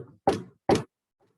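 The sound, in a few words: knocking on a front door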